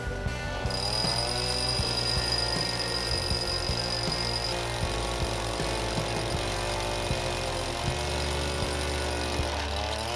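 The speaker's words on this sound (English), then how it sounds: "This drill bit is really worn." A worn drill bit grinds into hard rock during farmhouse renovation, giving a loud, steady mechanical hammering rattle with a whining motor tone that runs continuously and shifts in pitch.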